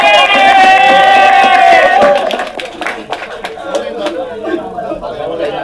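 Crowd at a Filipino rap battle breaks into applause and cheering for M-Sai, a dense wash of clapping and voices that swells loud, then thins into scattered claps and chatter.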